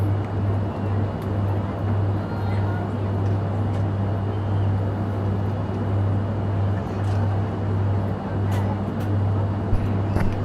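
A steady, droning turboprop engine hum from a Dornier Do228 cruising in X-Plane 11, a strong low tone holding evenly throughout, with faint background noise and no talking.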